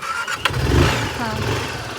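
A motorcycle engine starts and catches, rising into a brief idle rumble close by, with a short rattle just before it fires.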